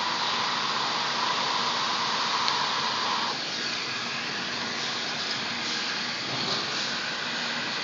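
A hot air welding gun works on an LLDPE plastic tank, giving a steady, loud, blowing hiss that carries on without a break and without any speech.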